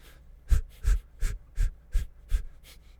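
Six sharp, forceful exhales follow one another at roughly two per second in a breathing exercise, each a close, breathy puff with a low thump, separated by short quiet gaps and no talking.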